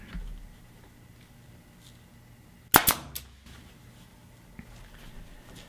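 A staple gun fires a single sharp snap and clack, driving a half-inch staple through pool table cloth, near and loud against a quiet room, with a faint knock afterward.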